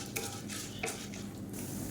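Chana dal tossed with mustard seeds and urad dal in a hot pan, giving steady close scraping and clinks of a spoon against metal with a soft sizzling hiss underneath, no talking.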